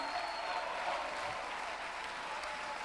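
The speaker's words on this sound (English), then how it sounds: "Why don't you clap your hands and shout?" A church congregation claps, a soft, distant wash of many hands that stays even and unbroken.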